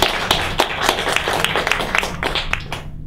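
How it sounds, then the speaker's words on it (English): An audience at a peacemakers' community gathering at a café gives a round of applause, a dense and steady patter of many hands clapping close by. It fades out at the end. "please give yourselves a round of applause"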